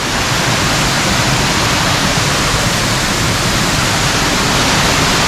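A waterfall in Siquijor thunders continuously up close, a loud, dense, unbroken roar of falling water with no pauses and no voices.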